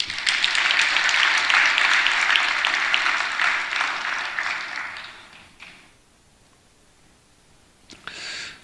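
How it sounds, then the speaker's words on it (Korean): A church congregation claps together in a steady burst of applause that thins and fades after about five seconds. A brief rustle or knock follows near the end. "박수 한번 쳐줘봐요."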